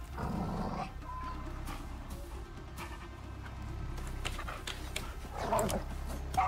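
In the Icarus survival game, a tamed dog-like wolf gives low whimpers and growly vocal sounds over a quiet game ambience, with a few sharp yips near the end.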